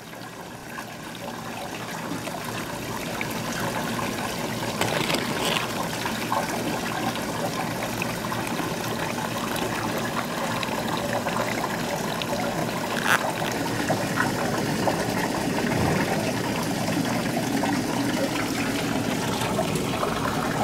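Water flows steadily through a hydrodynamic gold pay streak model, a continuous close trickling rush that stays even and fairly loud throughout with no talk.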